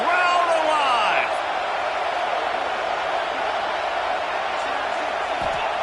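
A football stadium crowd roars during a third-down red zone play, a loud, steady wash of cheering with a few whistles near the start.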